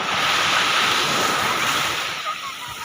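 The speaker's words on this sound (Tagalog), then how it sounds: "Tignan naman yung alon, guys." Continuous roar of ocean waves breaking on a shore, a broad rushing wash that swells and eases slightly toward the end.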